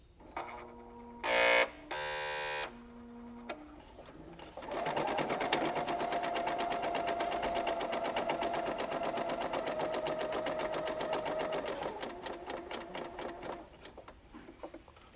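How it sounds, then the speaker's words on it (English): A Bernina L890 sewing machine runs cover stitches, starting with a few short beeps and bursts, then a long steady rapid stitching run that slows and stops near the end. "I'm ready and I should be able to stitch."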